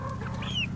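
Backyard chickens cluck, one breed having five toes: a brief high squawking cluck over a low steady rumble, close and fairly loud.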